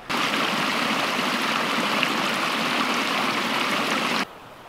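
A creek flows in a loud, steady rush close by, an unbroken wash of moving water that cuts off abruptly near the end, with no voices.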